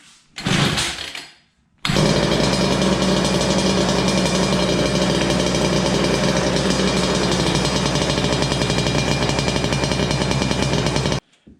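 Small gasoline engine on a Razor go-kart running steadily at close range: a loud, harsh, buzzing drone that holds for about nine seconds after a brief sputtering start and a short pause, then cuts off abruptly.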